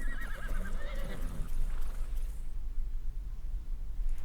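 A horse in the survival game Ark Survival Evolved gives a loud wavering neigh in the first half, followed by quieter hoof clopping and low ambient rumble.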